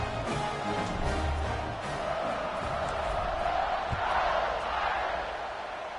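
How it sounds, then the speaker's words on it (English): A stadium crowd buzzes in a college football video game after a touchdown in a USC at Notre Dame matchup, a steady dense murmur and cheer that continues throughout. "this crowd is buzzing after that last score"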